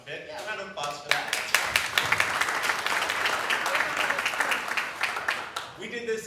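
An audience applauds at a launch event, clapping building quickly into a loud, dense, sustained round before tapering off near the end as a voice returns.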